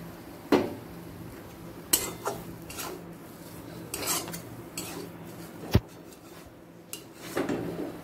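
A spoon scrapes and clanks against a cooking pan while pointed gourd bharta is moved into another dish, giving a run of irregular metallic knocks and short scrapes at close range, with no voices.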